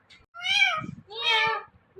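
Two meow-like calls in quick succession, clearly imitating a cat, with a short rasp between them.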